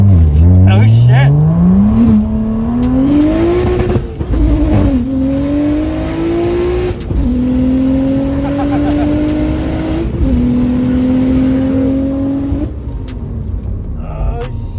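700hp BMW N54 single turbo car pulling hard through several gears, each pitch climb cut by a shift, loud and close from inside the car, with excited voices over it.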